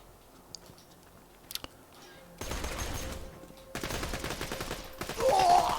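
Gunfire from a gun in the video game Borderlands 2, heard as bursts of dense rapid shots in the second half, preceded by a few isolated clicks and thumps, with game sounds layered over the firing.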